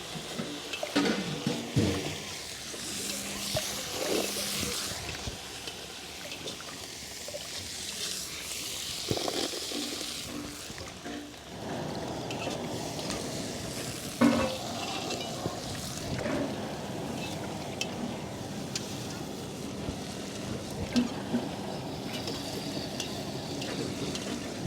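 Onions sautéing in a pan with garlic and curry leaves for Nellai wedding-style kara kuzhambu, a soft continuous sizzle with scraping stir strokes throughout, fairly quiet and close.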